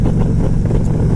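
A Harley-Davidson motorcycle engine rumbles loud and steady while riding, a deep continuous throb up close with wind noise, no talk.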